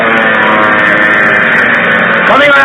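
800 class snowmobiles race around a track, their engines a loud, continuous droning whine close by, with one machine's pitch rising near the end.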